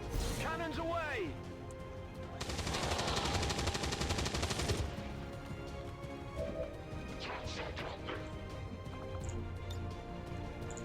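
Heavy cannon fire in XCOM 2, one sustained rapid burst of booming shots lasting a couple of seconds, loud and close, with a voice talking before and after.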